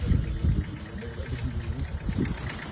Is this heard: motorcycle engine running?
yes